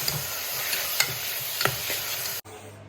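Crab roast masala with onions is stirred in a pan, with steady scraping and a few sharp spoon knocks over a continuous close sizzle before a brief cut near the end.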